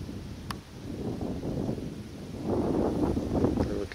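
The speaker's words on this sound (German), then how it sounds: "Jetzt windet es leider ein bisschen." Wind blows in summer across an open rural spot by the railway at Hausen im Tal, a low gusty rumble against the microphone that builds and strengthens in the last part.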